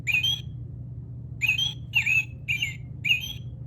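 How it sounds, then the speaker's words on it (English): A red-breasted robin calls with five short, bright whistled notes, one alone and then four in a quick, even series, close and clear over a low steady hum. "You might hear that sound in your yard because we have these red-breasted robins all over our neighborhoods."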